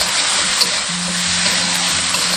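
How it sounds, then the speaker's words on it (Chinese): Cauliflower with red pepper is stir-fried in a hot wok, giving a dense, continuous close sizzle with faint scraping of the stirring, steady and fairly loud throughout. "翻炒1分钟。"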